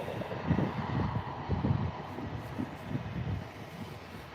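An EasyJet Airbus A319 airliner at Birmingham airport gives a steady, moderately distant low engine rumble and roar, a constant broadband drone with slight swells, and no voices.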